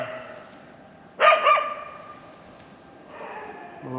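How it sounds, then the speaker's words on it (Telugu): Dogs bark at midnight outdoors: a sharp burst of two or three barks near the middle, then fainter, more distant barking toward the end against a quiet, humming background. "కుక్కలు అరుస్తున్నాయి"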